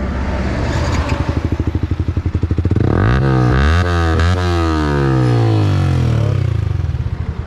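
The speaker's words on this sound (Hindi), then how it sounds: "आज सामने वर्जन 3 वाली है और उसमें थोड़ा पॉविक का एग्जॉस्ट लगा हुआ है। बहुत अच्छा इसका आवाज़ आ रहा है भाई" Bajaj Pulsar N250 motorcycle fitted with an aftermarket exhaust, idling with a close, throbbing pulse, then revved repeatedly so the pitch sweeps up and falls back in several loud, rising and falling bursts.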